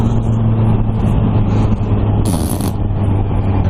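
A Kawasaki Ninja H2 motorcycle accelerates hard, its loud engine a steady, strong drone with a brief high-pitched burst midway that fits a quick-shifter gear change; no one talks.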